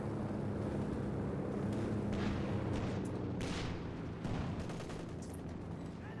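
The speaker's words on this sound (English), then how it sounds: "Fortunate barrage here" Artillery barrage in a World War II online battle game, USA versus Poland: a steady rumble of distant shell blasts and gunfire, with several louder booms breaking through near the middle.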